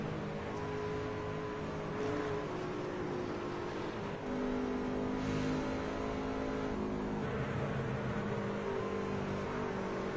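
Race cars running on an oval behind the pace car after leaving pit road, a continuous loud blend of several engines droning and rising in pitch as they accelerate, with no talking over the sound.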